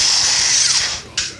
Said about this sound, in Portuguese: Na furadeira você tem duas chaves.